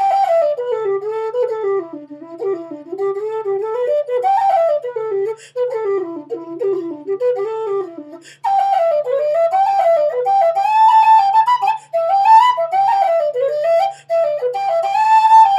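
A melodic tune played on a red satin MK Pro whistle, clear and bright, with rising and falling phrases in a steady, continuous flow close to the listener.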